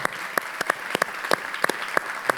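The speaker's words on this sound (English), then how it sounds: "Can we get a round of applause for Tedy, please?" An audience at a conversation event gives a round of applause for former football player Tedy Bruschi, heard as sparse, distinct individual claps over a soft wash of room noise.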